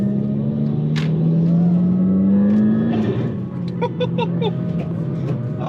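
A Volkswagen Mk5/Mk6 GTI fitted with a CTS Turbo cold air intake revs up with a rising, throaty induction roar, then eases off into a steady loud engine drone, heard close up from start to finish.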